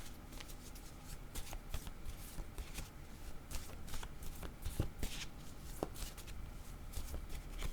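A deck of tarot cards being shuffled, with soft, quick riffling and flicking of cards, close and quiet, in a steady run of small rustles.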